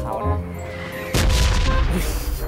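Grenade blast in the mobile battle-royale game PUBG Mobile: a sudden loud boom about halfway through, following a voice and trailing off into rumble.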